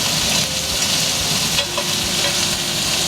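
Steady sizzling of food frying in a pan while cooking a wild boar and quail leg gumbo, a continuous close crackle with occasional stirring, no voices.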